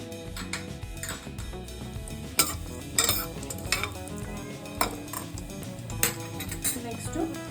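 Mustard seeds and cumin sizzle in hot oil for paneer pulao, with light crackling under repeated clinks and scrapes of a metal spoon against the pan, close by.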